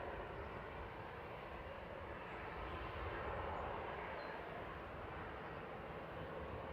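An easyJet Airbus A320 Classic, about 15 years old, lines up on the runway at Manchester Airport before departing for Prague, giving a steady, distant engine rumble and broadband roar that stays fairly faint throughout without talk.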